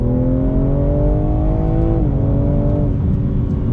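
A 2021 BMW M3 Competition engine pulls hard on throttle, its loud, steady note climbing through the revs before a brief dip at a gear change and another rising pull, heard from inside the cabin with no talking.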